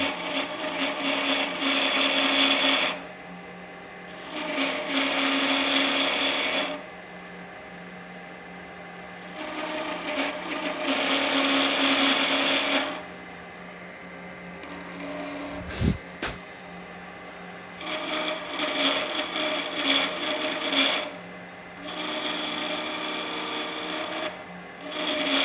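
A wooden deer grunt barrel turning on a lathe while a tool scrapes it down toward a size checked with a 3/4 inch wrench: four sustained raspy cutting passes of a few seconds each, broken by quieter gaps with the lathe's hum.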